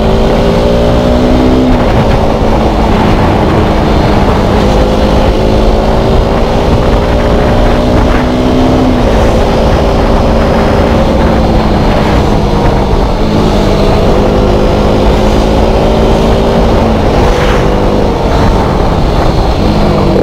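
A KTM 200 Duke motorcycle engine revs loud and steady, its pitch rising through the gears and then stepping down in repeated quick downshifts, with continuous wind and road noise over the whole stretch and no talk.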